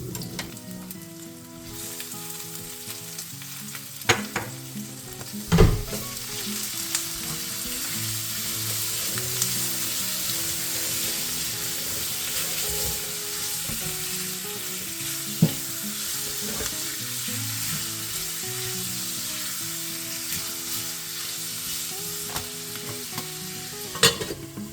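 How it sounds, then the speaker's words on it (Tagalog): Pansit noodles sautéing in a pan, a steady close sizzle and frying hiss running throughout, with occasional scraping stirs and utensil knocks against the pan. "Basta ginisa ko lang yan, tapos tinakpan, nilagyan ng mainit na tubig."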